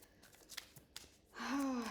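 Tarot cards being shuffled during a twin flame reading, a few faint soft riffles followed by a louder, denser burst of card flutter near the end, with no talking.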